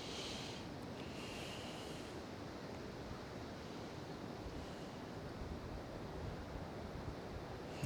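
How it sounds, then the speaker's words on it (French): Strong wind blows outdoors as a steady, broadband roar buffeting close to the microphone, fairly faint overall and unbroken for the whole stretch, with no voices. "Là, il y a beaucoup de vent, ma capuche peut voler."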